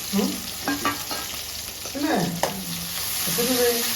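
Mustard seeds crackling and popping in hot oil while tempering for a Kerala mackerel thoran, a close sizzle with scattered sharp pops and some stirring, no talking.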